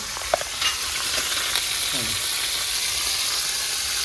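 Two bay leaves drop into hot oil for a rural jackfruit chicken curry, giving a steady close frying sizzle that fills the whole moment, with faint light clinks of stirring early on.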